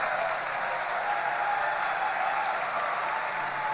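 Steady crowd applause at a national TVET Day opening ceremony in Malaysia, a continuous even patter of many hands clapping at moderate loudness throughout, with no voices standing out.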